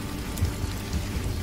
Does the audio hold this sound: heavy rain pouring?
yes